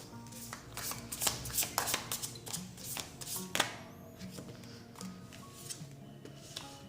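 Tarot cards shuffled close by: a run of crisp, irregular riffling and tapping bursts that fade into quieter handling, with faint background hum.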